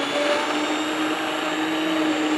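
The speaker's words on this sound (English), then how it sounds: "Be sure that you put the immersion blender on the tomatoes so that they" An immersion blender whirs steadily as it purees tomatoes in a Bloody Mary soup, a loud, continuous motor drone with no breaks and no voices.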